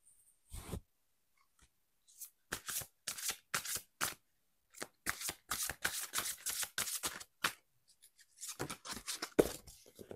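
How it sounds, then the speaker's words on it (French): A deck of oracle cards being shuffled by hand, close and fairly quiet, in repeated riffling bursts with brief pauses between them. "Je pose le micro quelques instants pour battre les cartes."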